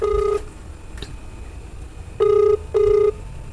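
A telephone gives a single touch-tone dialing beep followed after a pause by two more matching electronic beeps, clear and close with quiet room noise between them.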